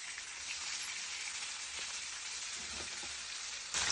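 Rohu fish fries in hot oil in a pan, giving a steady close sizzle and crackle that holds evenly throughout, with no one speaking.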